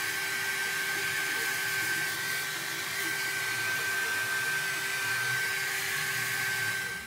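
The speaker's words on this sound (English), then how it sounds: "I am gonna have to take the hair dryer to it." A hair dryer blows steadily and loudly at close range, a constant whirring hum with airy rush, running without pause.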